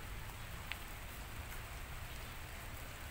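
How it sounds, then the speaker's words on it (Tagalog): Rain falls steadily in a soft, even hiss, fairly faint and constant, with no voices. "mukhang malakas ng ulan"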